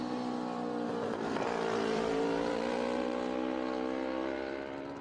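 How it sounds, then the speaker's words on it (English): A Kawasaki race motorcycle pulls away from the start line at the Isle of Man TT, its engine note a loud, sustained, rising howl that holds strong throughout and fades a little at the close. "That man, Michael Dunlop, seen here leaving the start line."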